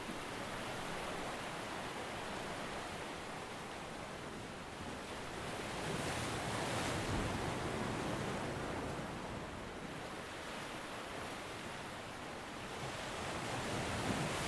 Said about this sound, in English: Enjoying the sound of the lapping waves